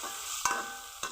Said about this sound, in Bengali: টমেটো কুচি, টমেটো পেঁয়াজ নরম হওয়া পর্যন্ত কষিয়ে নিব।